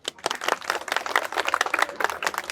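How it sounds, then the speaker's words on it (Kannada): Audience clapping at a Kannada show, calling for a teacher to sing a Kannada song; dense, fairly close claps roll on steadily for a couple of seconds with no voices over them. "ಚಪ್ಪಾಳೆ ಹಾಕಿ ಎಲ್ರಿಗೂ"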